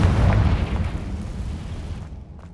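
A Confringo fire spell bursts in Hogwarts Legacy, a loud booming explosion with a heavy low-end roar that decays over about two seconds, heard alone.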